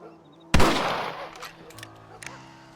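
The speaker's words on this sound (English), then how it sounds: "Your back's tense and it's making the rifle jump." A rifle shot in the video game Red Dead Redemption: one sharp loud crack that rings out and decays, followed by fainter clicks and small impacts over quiet background music.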